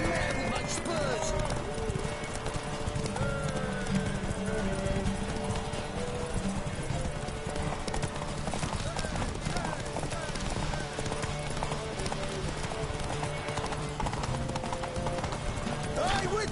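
A horse gallops steadily in The Witcher 3, its hooves clip-clopping in a fast, even rhythm throughout, with occasional whinnies and someone talking over the hoofbeats.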